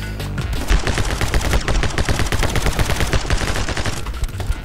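Rapid, loud gunfire in the game My Friend Pedro, with a pump shotgun among the weapons, ringing out in a dense burst of repeated shots close by, with no talk.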